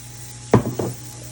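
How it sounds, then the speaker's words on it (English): Mushrooms dropped into a hot pan of softened onions, a short burst of sizzling and a pan clatter followed by a quieter second sizzle over steady low kitchen hum. "So my onion's about ready, and I'm going to add my mushrooms"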